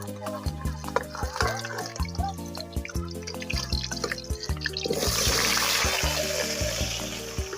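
Potatoes frying in oil: a soft, steady sizzle rises in the last couple of seconds beneath continuous background music.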